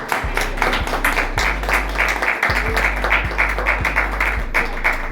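A church congregation applauds with a dense, continuous patter of clapping over a low electronic hum that shifts in steady pulses.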